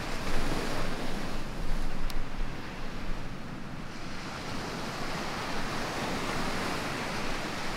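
Ocean surf on a North Shore beach roars loud and close in a continuous wash of breaking waves, with wind buffeting the microphone throughout.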